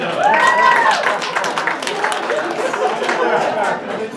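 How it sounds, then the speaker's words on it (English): Audience applause and clapping at a live real estate education seminar, steady crowd noise throughout with chatter and a voice speaking over it. "Give that a round of applause."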